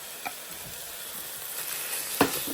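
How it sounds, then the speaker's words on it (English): White rice frying in oil in a pot, a steady close sizzle with soft stirring scrapes and a brief louder crackle near the end, no talking. "we're going to cook this in this oil for 2 to 3 minutes"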